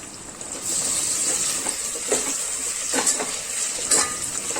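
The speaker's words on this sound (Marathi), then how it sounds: "आता इथे कांदा पण तळून झालाय त्यामध्ये टाकते टोमॅटो" Tomato dropped onto fried onion in a pan for dalcha, a steady close sizzle with a bright hiss on top and a few soft scraping, stirring knocks from a utensil.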